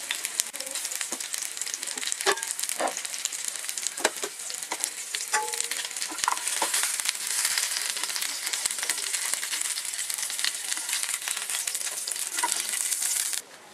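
Chicken pieces sizzle and fry steadily in hot oil in a pan for Arabic chicken majboos, a dense continuous crackle with occasional sharper pops and a brief scrape near the middle, no talking.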